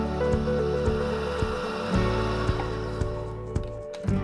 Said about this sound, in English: We're going to whisk this for a couple of minutes until smooth.